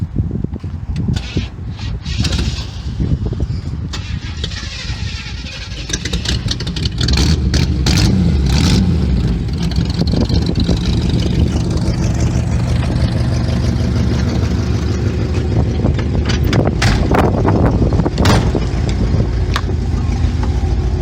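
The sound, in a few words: 1962 Chevy Impala 283 engine starting and running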